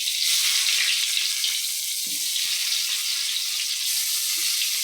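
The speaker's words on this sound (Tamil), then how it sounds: "இப்போது நம்ம வெங்காயம் பூண்டு போட்டுக்கலாம்." Onion and garlic dropped into hot oil after mustard seeds, frying with a loud, steady sizzle and a few soft clinks of stirring.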